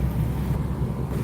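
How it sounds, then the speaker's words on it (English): Wind rushes steadily past a car with the window down, a continuous low buffeting roar while driving through downtown East Palestine, with no clear speech. "very windy today"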